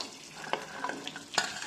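Carrot and beans frying in a little ghee in a kadai, with a few sharp stirring scrapes and clinks over a soft, steady sizzle. No one speaks.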